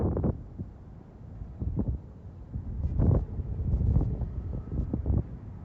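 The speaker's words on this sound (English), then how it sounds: "It is a bit windy." Wind buffeting a phone microphone on a New York City street, low rumbling gusts that swell and fade in irregular bursts, loudest near the middle, with no speech.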